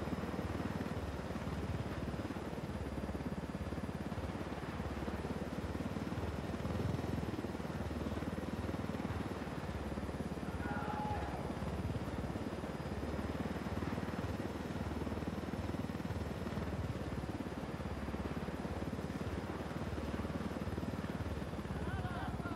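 A stolen helicopter flies low in the video game Ghost Recon Wildlands, giving a continuous, even rotor and engine drone that stays steady and moderately quiet throughout.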